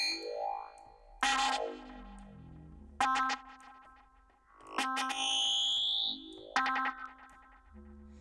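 Looped techno effect sound from an Ableton Operator synth patch, with bright bursts and pitch sweeps that recur in short repeating bursts with gaps between, moderately loud with no talk.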